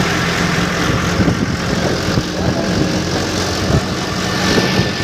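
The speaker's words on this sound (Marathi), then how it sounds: "आता आपण निघालो आहोत ट्रॅक्टर घेऊन." A tractor engine runs steadily on a road-construction site, a close, continuous low rumble and drone that holds at an even level throughout.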